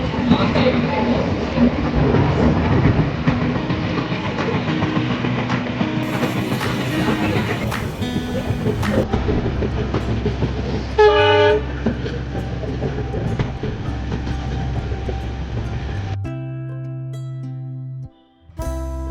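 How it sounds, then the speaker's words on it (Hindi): A passenger train from Hazrat Nizamuddin to Madgaon runs on the rails as it arrives at Miraj Junction in Maharashtra. Steady loud rolling clatter and rumble carry on with a horn-like toot, then the sound shifts abruptly near the end. "अब हमारी ट्रेन महाराष्ट्र के आखिरी स्टेशन मेरा जंक्शन पर पहुंच चुकी है"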